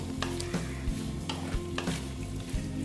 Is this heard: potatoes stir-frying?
yes